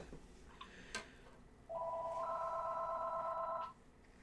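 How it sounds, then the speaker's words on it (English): A telephone rings once in a faint, two-tone electronic trill lasting about two seconds, heard in a quiet room after a few soft taps. "I'm not answering that phone."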